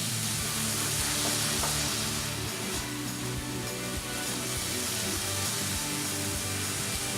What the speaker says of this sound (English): I'm just basically kind of heating the veggies through a little bit